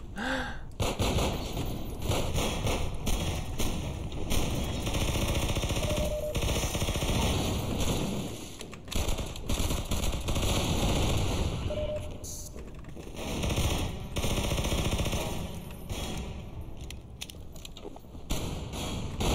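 Shotgun and other gunfire crack repeatedly and loudly during gameplay of the video game Hunt Down The Freeman, mixed with game effects while players talk over the action.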